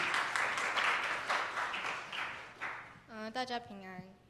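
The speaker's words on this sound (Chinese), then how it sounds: "我们一起来拍手欢迎子瑜哦，到我们当中来分享见证。" An audience claps to welcome a student, Ziyu, to the front to share a church testimony, with steady applause for about three seconds before a voice starts speaking.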